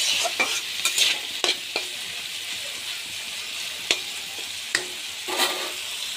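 Bitter gourd frying in a pan with turmeric, salt and green chilli, a steady close sizzle broken by several sharper crackles and spatters, no talking.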